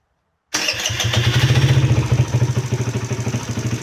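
A Kawasaki KFX50 ATV engine catches at once and settles into a loud, close, steady, throbbing idle with a quick regular pulse, no talking over it.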